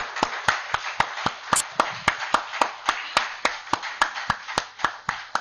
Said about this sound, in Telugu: ఆ సహస్రారానికి ఒకసారి గట్టిగా చప్పట్లు కొడదామండి